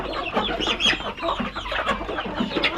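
Native chickens clucking steadily on a backyard farm among hens that are laying, a dense overlapping chorus of close clucks and short calls with no voice over them.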